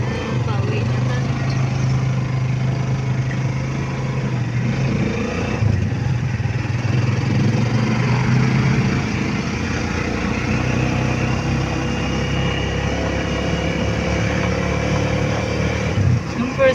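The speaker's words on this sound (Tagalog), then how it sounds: "nakasakay na kami ng motor" A motorcycle carrying riders home hums along at a steady mid-pitched engine drone with road noise throughout, close and continuous, with muffled talk faintly under it.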